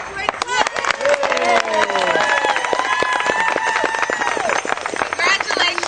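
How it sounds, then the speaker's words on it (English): A warm round of applause for a graduate at a celebrant graduation ceremony, steady crowd clapping filling the room while a melodic tone rises and falls over it, tapering off near the end. "Congratulations, a warm round of applause, and welcome to our community"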